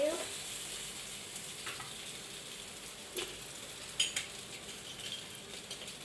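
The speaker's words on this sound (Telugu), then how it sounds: "ఇంత వేసుకుందాం ఆయిల్ మనం." Oil sizzling softly in a pan, a faint, steady frying hiss with a few light clinks of a utensil.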